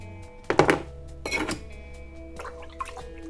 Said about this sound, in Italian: Sciacquiamo in acqua pulita.